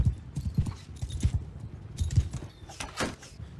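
Hooves clip-clop in a rapid, uneven rhythm as horses gallop close by in the medieval battle game Bannerlord, with a brief burst of noise near the end.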